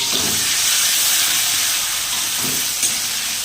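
Prawns, about 400 grams, frying lightly in hot oil give a steady, close hiss of sizzling that runs unbroken throughout, with no talk over it.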